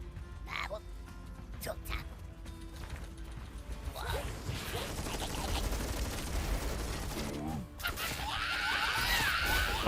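Gunfire from a battle in the video game StarCraft, rapid shooting and crashing impacts building into a dense, continuous wash of combat noise.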